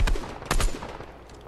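Assault rifle fire in a first-person shooter video game, a quick burst of close, loud shots with a few rapid cracks fading into a short tail.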